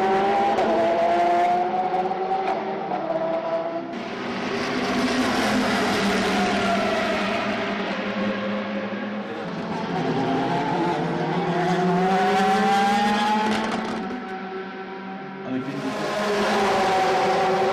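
A Peugeot 908 endurance prototype races in the 24 Hours event, its engine loud and close as it rises and falls through gear changes, sweeping past repeatedly over several seconds with faint tire noise.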